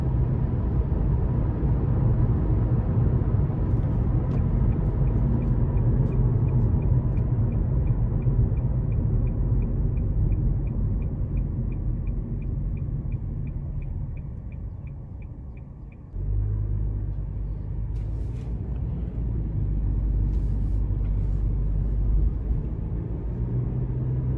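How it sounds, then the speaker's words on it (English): Steady interior road rumble and engine drone inside a 2021 Nissan Versa SV while driving, continuous and fairly loud, with a sudden shift in tone partway through. "I like how the vehicle's not as noisy as I would have expected it to be"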